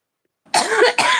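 After a moment of silence, a person coughs twice in quick succession, close and loud, with a rough, raspy quality.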